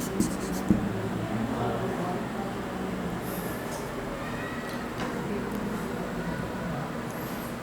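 Writing on a board during a primary-school math lesson on percent and bank interest, with steady scratchy marker or chalk strokes over a noisy room background throughout.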